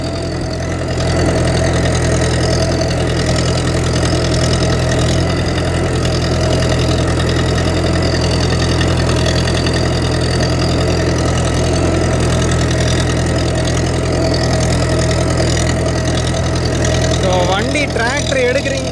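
A heavy tractor engine chugs steadily up close, a loud, rough diesel rumble with a knocking rhythm that continues without pause.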